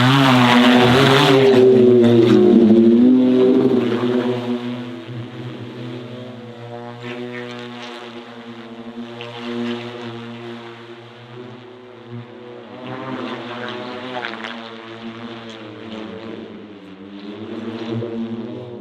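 A propeller aircraft engine roars loudly at first, then settles into a steady droning hum that wavers in pitch as it climbs away, at a racetrack.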